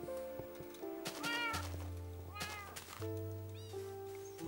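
A cat in the video game Minecraft meows several times in short rising-and-falling calls over steady game music with low sustained tones.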